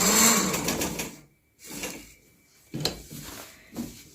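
A sewing machine stitches a gents kameez in short bursts of whirring, broken by brief pauses while the fabric is turned.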